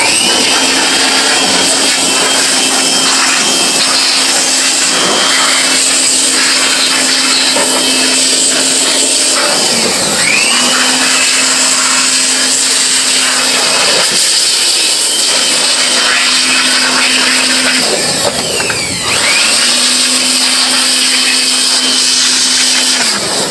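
A blower or dryer drying a freshly cleaned aircon unit roars loud and close in a constant high-pitched whine. It cuts out briefly twice, then spins back up.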